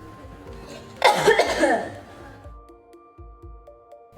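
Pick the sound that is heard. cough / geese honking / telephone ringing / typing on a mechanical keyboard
cough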